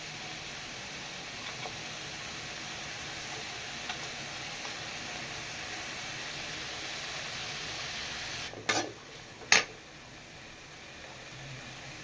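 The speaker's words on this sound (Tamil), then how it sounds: "நல்லா வதக்கிக்கிறோம்." Ingredients for mutton biryani sauté in a pan with a steady, soft sizzling hiss, interrupted near the end by a couple of sharp clanks of a utensil against the pan.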